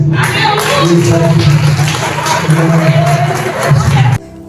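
A church congregation claps and cheers loudly and continuously for several seconds during a sermon, a dense wash of applause that cuts off abruptly at the end.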